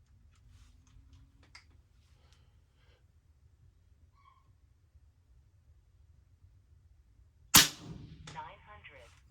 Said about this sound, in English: Second shot. Here's the third.